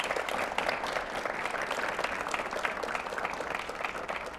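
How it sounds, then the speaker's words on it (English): A crowd at an Ossining High School leaders event, with students and a congresswoman present, applauds. The clapping is dense and sustained from start to finish with no break, and it sounds like a fairly large group. "Another big round of applause."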